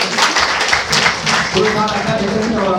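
Wedding guests applaud in a dense, steady patter of many hands that runs the whole time, with crowd voices mixed underneath.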